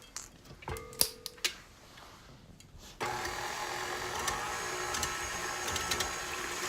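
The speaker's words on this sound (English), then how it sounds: "I am ready to mix everything and combine it completely" Electric hand mixer whirring steadily through coffee cake batter after vanilla extract is added, starting abruptly after a few quiet clicks and bumps and then running continuously and fairly loud.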